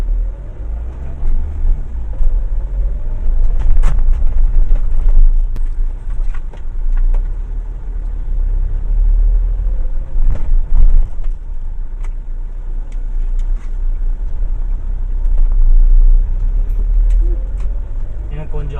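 Car cruising at speed on a road in Coimbatore, a steady low engine and road rumble running throughout with occasional bumps and clicks, while someone talks over it.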